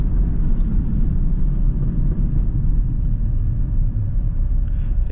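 A nitrous-equipped Acura RSX Type S pulls hard with the nitrous off. Its engine gives a deep, loud, continuous rumble heard from inside the car, with no talking.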